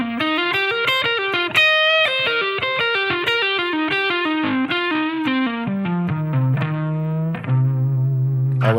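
Electric guitar runs a quick bluesy pentatonic lick through distortion and chorus-style effects, a rapid string of clean-cut notes descending and settling onto a held low root note at the end, close and solo with no talking.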